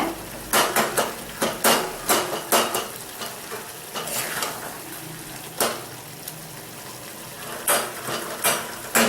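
A spoon stirs and mashes tomato chutney sizzling in a pan, with repeated close scraping and clanking against the metal over a soft frying hiss and no speech.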